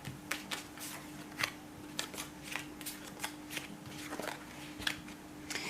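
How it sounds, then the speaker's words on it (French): Oracle cards being shuffled, cut and drawn by hand, giving a run of soft, close papery riffles and flicks with a steady low hum beneath. "je vais faire une coupe. Je vais tirer 3 cartes."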